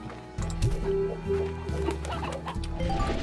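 Hens clucking in the video game Slime Rancher, a few soft repeated bird calls over a steady game music bed with low tones, moderately quiet and without talk.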